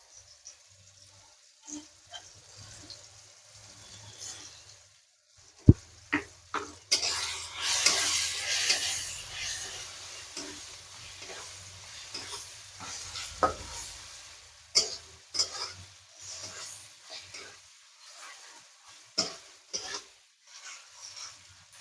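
Green chillies and a spoonful of ginger paste fry in a pan with tomatoes, giving a soft sizzle broken by repeated sharp scrapes and taps of a spoon stirring against the pan.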